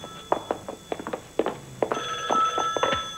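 A telephone bell rings indoors in repeated bursts, loud and close, its tone sustained in the second half of the ring.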